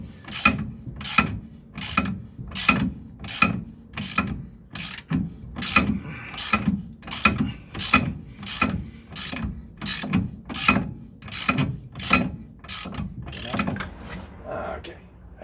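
Ratchet retightening a bolt on the front suspension of a 1969 Corvette, a close run of about twenty evenly spaced ratcheting clicks, each stroke sharp and rhythmic over a low background rumble.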